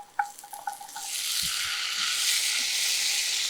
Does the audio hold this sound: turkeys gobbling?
no